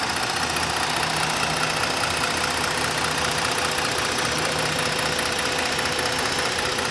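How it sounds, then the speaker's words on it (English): A 2017 Ford Taurus Police Interceptor engine idles steadily and quietly, a smooth, even hum with a faint ticking texture and no other sounds. "Very nice, quiet engine. No funny noises, no funny ticks."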